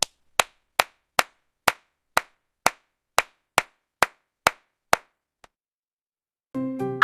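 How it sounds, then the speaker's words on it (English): Hands clapping in a slow, even rhythm, about a dozen sharp, close claps evenly spaced, then a pause and a brief tonal musical sound at the end. "I am clapping my hands."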